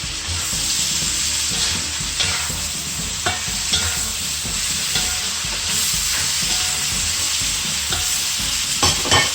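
Vegetables partly cooking in a hot pan for a French Creole vegetable pickle, a loud, constant close sizzle and hiss with periodic scrapes and taps of a stirring utensil.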